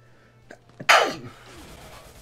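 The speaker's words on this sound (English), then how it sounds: "I sneezed all my sense out" One loud, close human sneeze bursts out after a couple of short sharp intakes of breath, then trails into a breathy tail over a faint steady hum.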